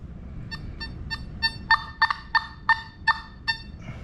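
Quacking, gobble-like warble from a Nokta FindX Pro metal detector passing over a bottle cap, about ten rhythmic electronic chirps that grow louder toward the middle, close and alone.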